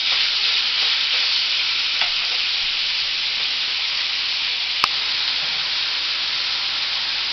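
Fried rice being stir-fried in a pan, a steady hissing sizzle throughout with a faint clack or two from a utensil, close and uninterrupted by speech.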